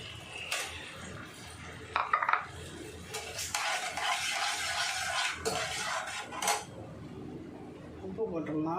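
A beaten egg is poured into a pan with curry leaves and stirred. A utensil scrapes and knocks against the metal over a soft sizzle, with a cluster of clatters near the start.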